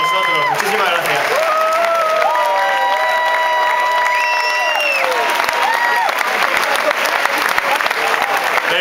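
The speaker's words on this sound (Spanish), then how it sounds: "y un fuerte aplauso a Joaquín Luque, presidente." A concert audience at the Apolo in Barcelona applauds loudly and continuously, with cheers and shouts rising over the clapping.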